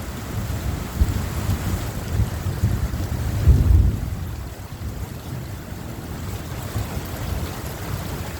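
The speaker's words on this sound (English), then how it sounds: "I come out and film a lightning storm standing under a metal cover." A thunderstorm over Phoenix, heard from under a metal cover: steady rain hisses while low thunder rumbles roll through, swelling to a heavier boom midway before settling back to the wash of rain, with no voices.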